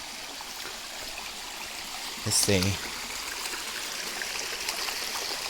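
Low, steady trickle of water from a small waterfall, a constant wash of flowing sound, with a brief spoken word partway through.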